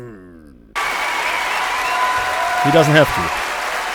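Audience applause at a live orchestral concert fills the room as a steady wash of clapping, and a person talks over it briefly near the end.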